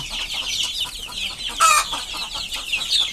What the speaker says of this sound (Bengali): আর এখানে আপনার মুরগিগুলো দেখতে পারতেছেন